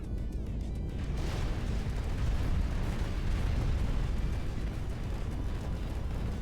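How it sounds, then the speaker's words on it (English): Top-mounted thrusters and magnets tearing apart a building in the Instruments of Destruction video game, a loud, sustained roaring rumble of crumbling destruction that swells and holds steady, with no voices. "We're going to just fire up the top mounted thrusters and turn on the magnets and see what happens."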